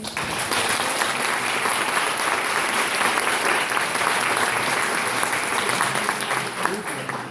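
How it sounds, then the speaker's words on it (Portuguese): A university audience at a mock trial applauds steadily for several seconds, dense and fairly loud clapping with a faint murmur of voices underneath. "eu queria uma salva de palmas para eles"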